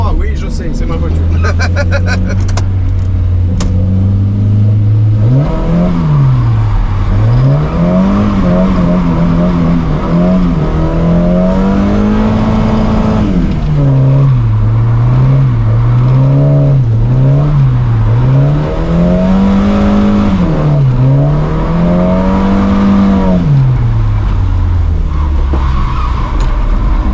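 A car engine revs and shifts through gears while driving, its pitch rising and falling in long sweeps, loud and continuous under occasional voices.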